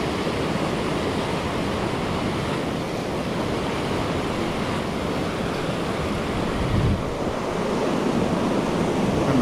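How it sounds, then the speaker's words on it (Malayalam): A strong river current rushes steadily and loudly where a fishing lure is being cast, a dense unbroken roar of flowing water with no voices. "അഞ്ചാതി ഒഴുക്കാണ് ഇവിടെ."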